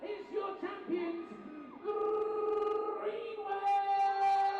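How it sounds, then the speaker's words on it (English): A crowd at a U13 school football final cheers the winning team, with whoops and yells rising into a sustained roar of many voices, fairly distant and continuous throughout. "let's make some noise for the boys and have some clap for the chaps"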